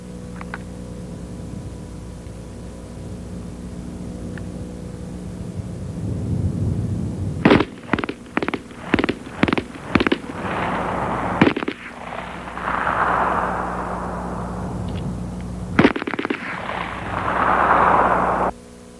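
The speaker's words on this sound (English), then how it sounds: "The result was the MP-18 submachine gun." An MP-18 submachine gun fires in fully automatic bursts, each one a rapid string of loud, sharp cracks with short pauses between. There is a low rumbling background and no speech.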